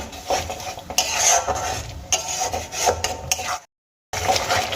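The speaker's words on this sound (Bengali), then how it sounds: "দিয়ে দেওয়ার পর আরও দু মিনিট আমি খুব ভালো করে কষিয়ে নেব" A spatula scrapes and stirs a thick spinach, gram flour and whisked yogurt mixture in a metal pan, with steady close rasping and clinking strokes and a brief silent gap near the end.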